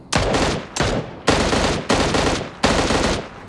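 M16 gunfire in PUBG Mobile: five loud, close bursts of rapid automatic fire, each roughly half a second long with short gaps between, and no talking.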